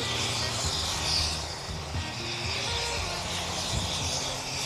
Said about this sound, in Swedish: nu kom polisen och landade med sin helikopter här, som jag antar att ni kanske hör